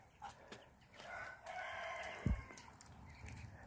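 Chickens in a village farmyard cluck and call at a moderate distance, with a brief loud thump partway through and a quiet rural background.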